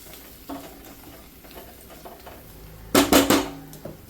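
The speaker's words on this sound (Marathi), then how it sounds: "ह्याला चांगलं परतून घ्यायचं." Brinjal stir-fried in a pan, with soft sizzling and scraping of a spatula against the metal, then a loud burst of clattering strokes near the end.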